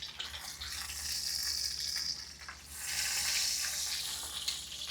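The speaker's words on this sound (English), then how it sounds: "Let me flip my steak one more time." A filet mignon steak sizzles in a hot pan as it is flipped, giving a steady, close, hissing crackle that swells and eases slightly before rising again, with no talking.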